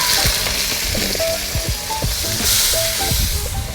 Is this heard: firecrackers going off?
no